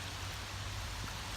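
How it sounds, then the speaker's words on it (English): Steady rain falls on a creek outdoors, a soft continuous hiss of drops and running water close by, with no voices. "It's raining."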